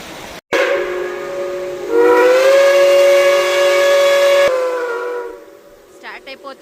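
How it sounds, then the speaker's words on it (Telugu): A steam train's whistle sounds as the train starts in Durango, Colorado, in snowy weather. After a sharp knock and a soft hiss, one loud, steady whistle blast holds for about two and a half seconds, then fades into quiet outdoor ambience. "స్టార్ట్ అయిపోతుంది ట్రైన్"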